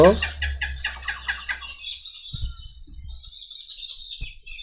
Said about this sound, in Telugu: అన్ని పక్షులు బాగా అరుస్తున్నాయి